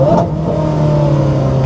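A Lamborghini Gallardo Superleggera engine revs on the throttle, a loud, close, steady mid-pitched drone with a sharp blip at the start.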